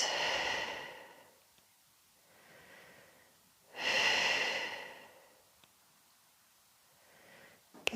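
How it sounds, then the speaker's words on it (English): Slow, deep breaths during a guided runner's stretching exercise: two long, loud whooshing inhale-exhale bursts with quieter softer breaths between them, close and alone with no talking. "2 more big breaths like that."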